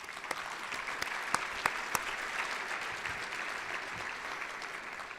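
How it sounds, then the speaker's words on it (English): Conference audience applauding steadily for about five seconds, a dense even patter of many hands with a few sharper individual claps standing out, fairly distant in a large hall. "We can give them a round of applause."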